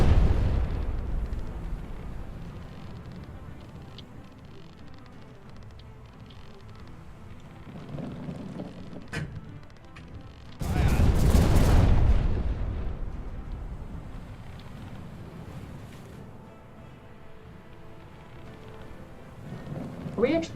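Heavy cannon fire from a pirate ship loaded with grape shot in the game Buccaneers!, one loud booming blast with a rumbling tail standing out from a low, steady background of game noise.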